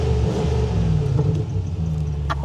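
A Land Rover Defender's 4 litre V8 idles with a deep, throbbing rumble and a light rev, heard close and steady without talk.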